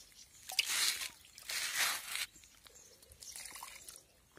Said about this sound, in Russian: Потом берем ковшик и подливаем наш перец.